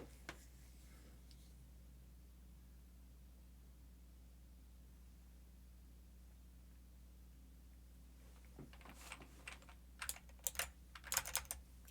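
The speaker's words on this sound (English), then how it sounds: "I'm just typing buttons because I'm thinking, and I really hope that you can hear it" Clicky computer keyboard typing on a Mac while coding in Vim, quiet at first with a couple of isolated taps, then bursts of rapid close keystrokes near the end over a low hum.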